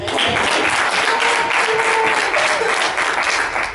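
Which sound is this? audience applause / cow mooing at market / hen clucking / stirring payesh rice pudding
audience applause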